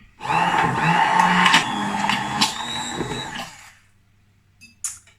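A kitchen blender whirring through oil-free vegan mayo, a loud steady motor drone with shifting pitch for about three seconds before it cuts off, followed by a brief faint clatter.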